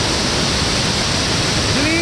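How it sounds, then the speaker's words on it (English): A waterfall roars as a dense, steady broadband rush filling the whole moment, loud and continuous with a faint tone near the end. "there is another waterfall coming right now."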